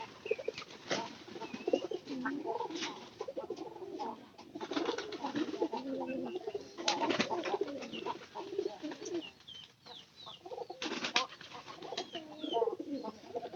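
Domestic pigeons, including a white one, coo repeatedly around a house in soft, rolling phrases, several birds close by, with occasional chirps and sharp knocks in between.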